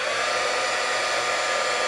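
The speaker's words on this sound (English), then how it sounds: "my heat gun is all ready to go" Heat gun blowing hot air while shaping a ribbon rosette, a steady, loud, unbroken whooshing hiss with no pauses and no talk.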